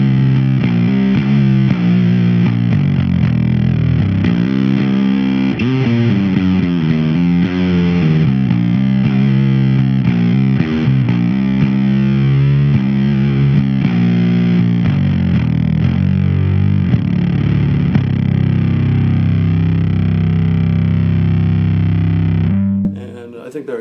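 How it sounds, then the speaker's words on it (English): Bass guitar run through a Super Fuzz pedal playing a slow doom metal riff, thick distorted low notes droning continuously and loud, close and alone until a brief stop at the end. "Almost always we've got the Super Fuzz on, which sounds like this."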